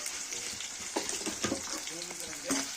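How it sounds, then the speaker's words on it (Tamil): Onions fry in a pan with a steady broadband sizzle throughout, punctuated by a few scraping stirs, while someone talks quietly over the cooking. "நல்லா ஃப்ரை ஆகணும்."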